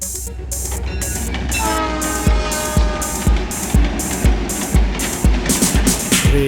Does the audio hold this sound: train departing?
yes